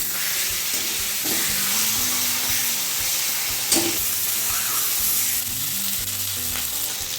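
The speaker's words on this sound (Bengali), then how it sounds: "তেলটা গরম হয়ে গেছে, মাছের মাথাটা ভেজে নেব।" A fish head fries in hot oil for a Bengali greens dish, giving a loud, steady, close sizzling hiss that continues unbroken, with a brief stir partway through.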